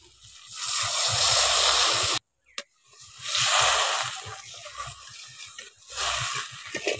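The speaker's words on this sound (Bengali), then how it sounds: "এবার পরিমাণ মতো জলটা দিয়ে দিচ্ছি" Water poured into a pan of well-fried masala for a taro kofta curry, giving a loud rushing hiss that breaks off briefly with a short gap and a click, then resumes in long gushing bursts.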